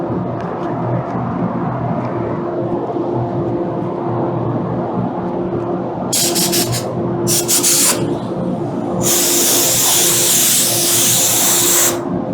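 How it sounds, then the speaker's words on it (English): Spray gun painting automotive parts: a continuous airy hiss of the gun spraying panels with partial trigger pulls, broken by several louder bursts of bright hissing spray near the end, close and without talk. "when I'm spraying inside there, my trigger pull is only like halfway"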